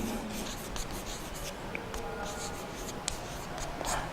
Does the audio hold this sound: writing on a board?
yes